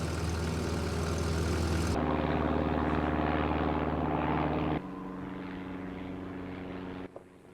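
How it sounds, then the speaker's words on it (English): Droning propeller aircraft engine overhead on Mount Johnson, Alaska, loud and steady, with abrupt shifts in tone and level as it continues, no voices. "do you hear that? Jim, come on, man, there's a plane."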